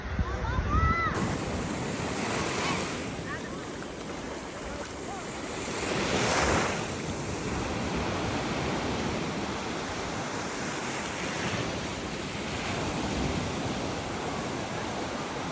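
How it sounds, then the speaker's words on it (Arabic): Sea surf at Alexandria beach rolls in as a continuous wash of broken waves, with swelling crests every few seconds and gusty wind buffeting the microphone close by. "سامعين صوت البحر اهو"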